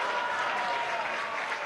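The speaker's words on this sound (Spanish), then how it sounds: "Aplauden a la periodista Rosita Caldera por sus enseñanzas y trayectoria" An audience of communicators at a national journalism award ceremony applauds journalist Rosita Caldera, giving sustained, dense clapping from many hands that holds steady throughout the short stretch.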